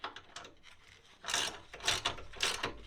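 Ratcheting and rubbing clicks from tightening the brace bolt on a Nissan 350Z brake master cylinder brace, in three louder bursts of rasping metal-on-metal turns with quieter clicks between, close and without talk.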